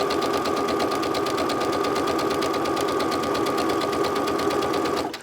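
A sewing machine stitching fabric for a simple tote bag, a fast steady mechanical whir with even rapid needle pulses, close and loud, running continuously then stopping at the end.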